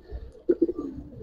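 Giribaz pigeons give a couple of short, close coos in quick succession, alone against a quiet background.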